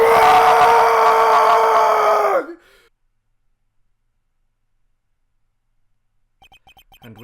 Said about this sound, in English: It's a bone-chilling scream.